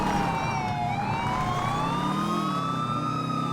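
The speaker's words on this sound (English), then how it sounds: "Even the sirens are the same as they were in 4," Police car sirens wail in the Liberty City setting of GTA 5, several overlapping tones rising and falling steadily over an engine rumble, loud and continuous with no talking.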